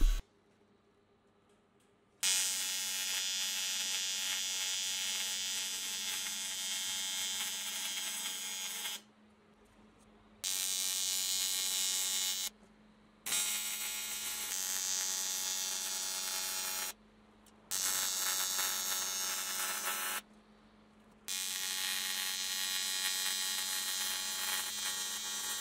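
Welding beads being run on an electric cargo bike frame held in a fixture, heard as five long, steady crackling bursts separated by short silent pauses, close and loud over a low mains hum.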